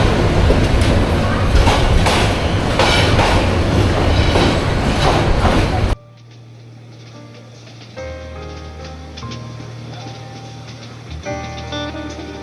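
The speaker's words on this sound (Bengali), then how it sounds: "অসাধারণ একটা টার্ন নিচ্ছে এই মুহূর্তে ট্রেন" Parabat Express passenger train on the Dhaka to Sylhet line, rolling along the rails near Shayestaganj Junction: loud steady rumble and clatter for six seconds, then a quieter interior hum with rhythmic wheel clicks, a faint squeal and murmured voices.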